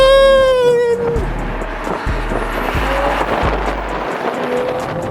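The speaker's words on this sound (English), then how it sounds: "since it's been upgraded, of course you have a little bit of wheel spin" A stage 2 upgraded BMW M340i xDrive accelerates hard with some wheel spin: a loud, high engine wail climbs, then drops into repeated deep surges as the gears change, close and dominant.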